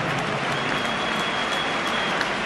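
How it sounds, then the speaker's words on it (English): A large crowd applauding at an international rugby match between New Zealand and Ireland in 2013, a dense, steady roar of clapping throughout. "Let's have a nice warm round of applause for our"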